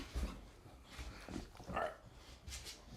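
Dog whimpering indoors: soft, faint whines and snuffling breaths come in a few short bursts close by, with no speech over them.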